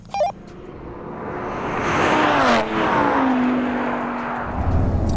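A modified Audi RS3 accelerates hard in a drag race against a Lamborghini Huracan, engine roaring loud and close as revs climb through gear changes, then easing off toward the end.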